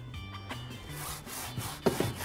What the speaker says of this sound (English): we're gonna hit the tire with our tire scrubbing brush.